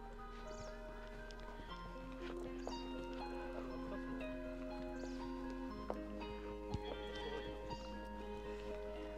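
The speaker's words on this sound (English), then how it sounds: "We are trying horse riding at Shooting Point" Faint horse hooves clopping at a distance during horse riding at Shooting Point, Ooty, mixed with soft tonal background sounds and scattered light knocks.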